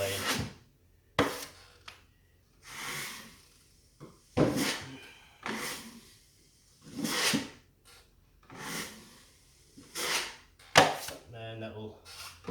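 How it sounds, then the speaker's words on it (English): A knife blade twisted and scraped in a wall crack during plaster repair, a series of short, sharp scrapes and knocks spaced a second or two apart, close up, with no voices. "So I'm twisting the knife or the blade."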